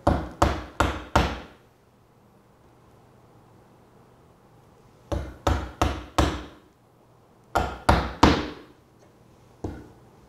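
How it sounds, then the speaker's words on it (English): A hammer drives a chisel into a wooden blanket chest board while cutting dovetails. Sharp, loud blows come in three bursts of about four strikes each, separated by quiet pauses, and a single final strike closes the sequence. "now I'm going to put my chisel in the scribe line"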